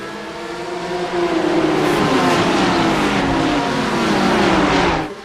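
Pack of GT3 race cars in a racing video game roaring off the line together at a heat start, a dense swelling wall of engines climbing in pitch, loud and sustained, no talking.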